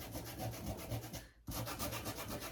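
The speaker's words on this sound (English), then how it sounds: "I'm just taking a little piece of sandpaper and doing that just to distress it just a tad." A small piece of sandpaper rubs back and forth over stained wood farmhouse decor, a close, steady scratchy scrubbing in repeated strokes with a brief pause before it resumes.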